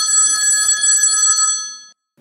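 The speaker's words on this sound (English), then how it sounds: "I could only assume that a phone was ringing in 102 as well." Electronic telephone bell ringing loud and close, one continuous trilling burst that stops abruptly and is followed by a short silence.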